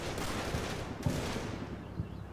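MG42 machine gun fire in the Combat Mission: Battle for Normandy video game, heard as a few brief, muffled bursts over a low rumbling battle background.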